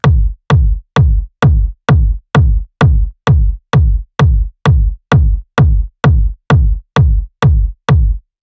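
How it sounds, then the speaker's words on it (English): A single punchy kick drum sample repeated about sixteen times at an even, steady pace, loud and isolated with silence between hits. "So I have this kick here and it sounds like this."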